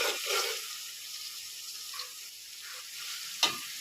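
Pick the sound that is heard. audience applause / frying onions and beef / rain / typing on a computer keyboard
frying onions and beef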